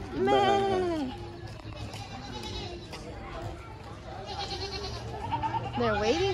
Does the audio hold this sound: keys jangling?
no